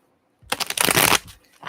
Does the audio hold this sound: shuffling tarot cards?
yes